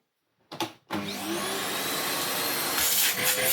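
Vacuum cleaner fitted with a replacement motor, starting with a couple of brief bursts before settling into a steady, loud whine that holds at near-constant power throughout.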